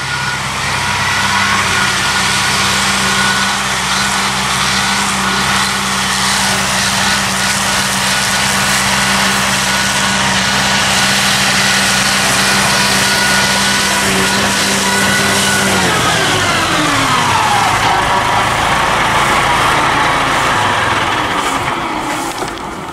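A loud tractor engine with a Massey Ferguson DM205 mower drones steadily nearby, then its pitch drops and shifts as the machine turns and moves away near the end.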